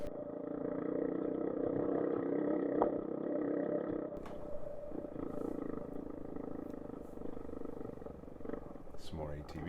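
An Apollo DB 36 250cc Deluxe ATV runs off road over loose rocks, its engine a steady, close drone that shifts in tone partway through, with a voice heard over it.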